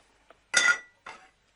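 A small saucepan clinks as it is handed over: one faint tap, then a sharp metallic clink with short ringing, and a softer second clink, alone in near silence.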